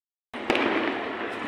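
Firecrackers burst at midnight for Pakistan Independence Day on 14 August, starting with an abrupt loud bang that gives way to continuous dense crackling and popping, heard from a distance.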